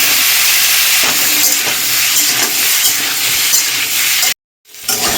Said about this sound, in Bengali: ওলটা আর আলুটা একসঙ্গে ভেজে নিচ্ছি।